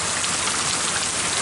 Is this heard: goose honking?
no